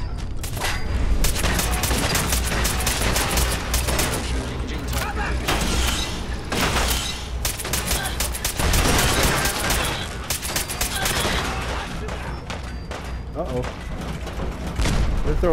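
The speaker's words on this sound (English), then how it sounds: "Throwing grenades at us." Grenade explosions in Fallout 4 combat, heavy booms and bursts of gunfire piling up loud and dense across the whole stretch amid mechanical clatter.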